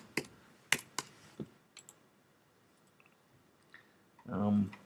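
Sparse clicks on a computer keyboard, a few sharp taps early on and then fainter scattered keystrokes, close but quiet, before a brief burst of voice at the end.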